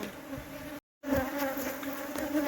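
Honeybees from a colony cut out of an old tree stump buzz steadily and loudly up close, a dense continuous drone with a brief dropout midway and no talking.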